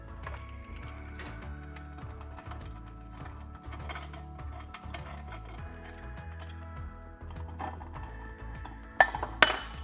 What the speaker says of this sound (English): Get your 10mm socket, and we're going to remove these 3 bolts here on the back.